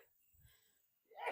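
A single sharp sneeze bursts out near the end of a short, quiet stretch outdoors during a golf practice round, loud and close after near silence.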